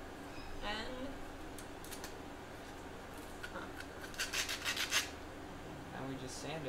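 Scratchy rubbing of sandpaper on aluminum in uneven strokes, with short bursts of faster rasping near the end; no speech.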